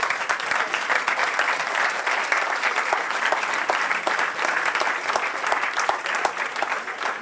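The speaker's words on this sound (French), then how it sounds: "ça sent avec les applaudissements" A crowd applauds steadily at a political campaign launch meeting in Ivry, with sustained dense clapping at a moderate distance and no break, and no voices standing out.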